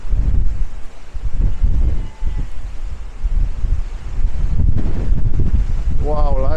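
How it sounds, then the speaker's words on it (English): Strong wind on a hilltop buffets the microphone in loud, uneven gusts of rumbling noise, with a few short breathy sounds near the end. "as you can hear, being up on this hill, it really has got windy"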